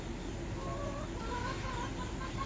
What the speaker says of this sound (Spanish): nos preparamos para darles de comer a las gallinas